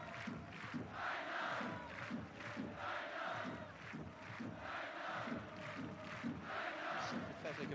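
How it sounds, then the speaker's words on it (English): Home supporters at a J.League football match between Yokohama F. Marinos and Hokkaido Consadole Sapporo keep up a rhythmic crowd noise with chanting and clapping, distant and diffuse across the stadium. "Sympathetic applause from the home supporters, saying his name, Kaina."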